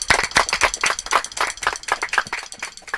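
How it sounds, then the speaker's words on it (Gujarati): A live music jam audience claps to welcome the musicians, a dense stretch of lively applause, close and loud, with no voices over it. "આ બધા જ કલાકારો માટે આપ જ્યાં પણ હો ત્યાંથી એક વાર જોરદાર તાળીઓ"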